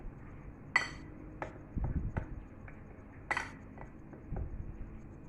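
A spoon mixes flour with black pepper and salt in a bowl, giving a few sharp clinks against the rim between soft, muffled scrapes and taps, quiet and close.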